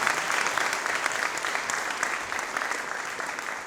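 Studio audience of a TV show applauding, a dense, even wash of many hands clapping close and loud throughout, fading slightly at the end.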